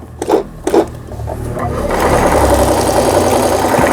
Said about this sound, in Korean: 정상적으로 박음질이 돼서 나오는 브라더 미싱의 PC15라는 기계